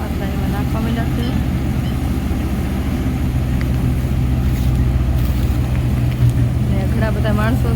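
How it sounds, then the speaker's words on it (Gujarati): A threshing machine running to separate barley during a harvest with many people working, producing a loud, unbroken mechanical drone with a low hum, and brief voices faintly audible over it. "તો મેં થ્રેસર ચાલુ કરી દીધું છે જવ કાઢવા માટે"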